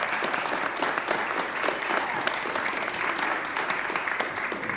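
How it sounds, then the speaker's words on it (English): Big applause from the audience at a gallery opening event held by the South Chicago Chamber for the South Chicago Underline Project, as a dense, steady wash of clapping that carries on loud and even without a break. "big applause to the students and for participating in this event"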